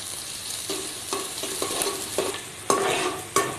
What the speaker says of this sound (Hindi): प्याज को हम हल्का सा ब्राउन कर लेते हैं।